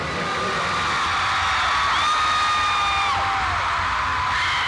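Concert crowd cheers and whoops before a show, a loud continuous roar with high sustained shouts rising out of it midway.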